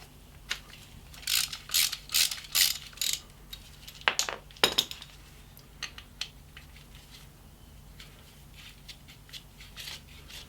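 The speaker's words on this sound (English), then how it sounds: "So I'm going to put my T30 hex head on, and now I'm going to just remove this bolt here." A hex ratchet clicks rapidly in short bursts while a T30 bit removes a caliper bolt on a BMW GS front brake, close up with metallic rattles and a few sharper knocks, no talking.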